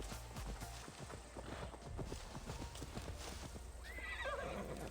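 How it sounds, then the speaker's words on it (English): A horse in Assassin's Creed Valhalla gallops with a rapid, steady clip-clop of hooves, then gives a short whinny near the end, all clear and close with no talking over it. "Oh hey, it's my glitchy ass horse."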